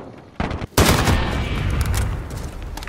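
Heavy gunfire in a shooter video game: a sharp shot followed by a loud sustained burst of rapid fire that rings on, with a few further cracks near the end, close and dominant.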